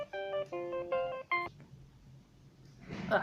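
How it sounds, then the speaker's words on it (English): A telephone rings for about a second and a half with a repeating electronic tone pattern, loud against a quiet room, then stops, leaving faint background noise and a brief rustle at the end. "excuse me, phone call."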